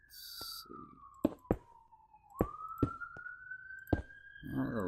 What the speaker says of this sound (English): Sirens in the background while you're doing a recording.